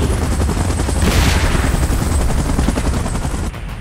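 A helicopter in the PUBG Kong vs Godzilla event video game throbs with a steady, loud, close rotor roar that holds for several seconds and then drops off abruptly at the end.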